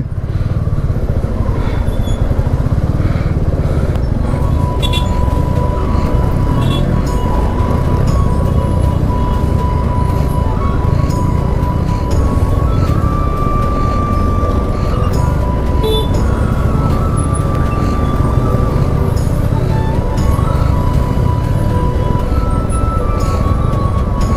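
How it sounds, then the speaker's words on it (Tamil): Busy road traffic near railway construction, a constant loud rumble of engines with motorcycles and cars passing, occasional horn tones and light clinks layered over the steady roar. "ஸோ நல்லா டிராஃபிக் இருக்குது."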